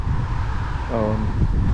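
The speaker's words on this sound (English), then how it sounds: "it's pretty windy now" Low, rumbling wind buffeting a microphone in Davos, Switzerland fills the clip, steady throughout, with a brief voice-like tone partway through.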